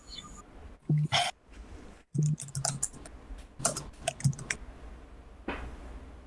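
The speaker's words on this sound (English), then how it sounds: "I am typing it out." Keyboard typing with irregular clicks and short bursts of keystrokes, moderately close, with brief pauses between runs and no talking.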